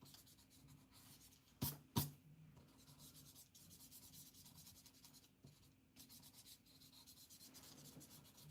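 Pencil sketching on paper for a loose outline before watercolor painting, heard as a faint, steady scratchy rub that runs throughout, with two brief louder knocks near the start and no talking.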